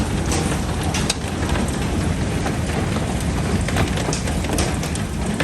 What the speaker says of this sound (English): This is a bad storm. I don't usually get much hail.